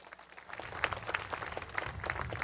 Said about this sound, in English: Let's clap it up for them as well.